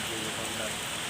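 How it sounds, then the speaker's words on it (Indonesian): Steady rain falls at night during a ride through a downpour, a dense even hiss filling the short moment with no clear pauses or individual drops standing out. "Ya, ini kita terobos saja hujan ini Bang."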